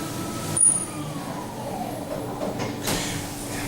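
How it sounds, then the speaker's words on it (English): A lift door slides shut at Wellington Airport, a steady mechanical rumble and whir with a brief thump near the start, continuous and close, with no talking. "Door closing."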